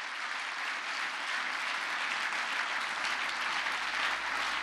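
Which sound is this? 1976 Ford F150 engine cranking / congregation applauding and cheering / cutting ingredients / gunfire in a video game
congregation applauding and cheering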